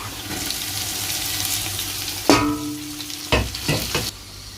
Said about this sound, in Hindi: प्याज हमारे जी तकरीबन ब्राउन होने वाले हैं। और इस स्टेज पे मैं इसमें डालूँगा जी अदरक।